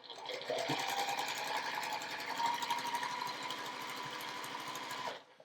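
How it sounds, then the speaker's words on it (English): A sewing machine runs steadily and close up, stitching a quarter-inch quilt seam next to the valley of a charm-pack block, with a fast, even mechanical whir that stops abruptly. "So I'm sewing that 1/4-inch seam right next to the valley."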